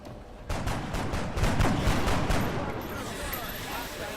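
Rapid bursts of overwatch gunfire crackle in the XCOM video game, a dense volley of overlapping shots peaking in the middle and trailing off into rumbling ambience, with a voice faintly present underneath.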